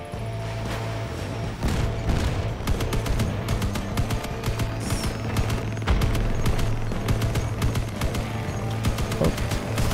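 A Spectre-2 machine gun fires in the video game Crossout: loud, rapid bursts and quick taps of gunfire, nearly continuous, over a low steady engine hum.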